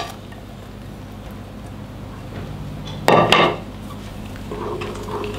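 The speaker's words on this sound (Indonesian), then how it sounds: "Kita aduk sebentar." A spoon scrapes and clinks briefly against a pot of broth with spring onions, one short rattling burst over a low background hum, otherwise quiet.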